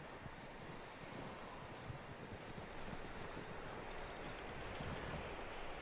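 Horse hooves clip-clop steadily in Red Dead Redemption 2, a continuous trot mixed into a thick bed of wind-like outdoor noise at moderate level.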